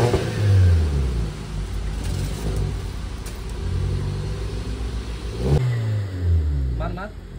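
A car fitted with a custom aftermarket exhaust revs up loudly in a few rising surges, its engine note swelling and dropping close by, with people talking over it.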